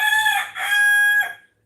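A rooster crows loudly and close by in one long, strained call that rises, holds a steady pitch and fades out over under two seconds.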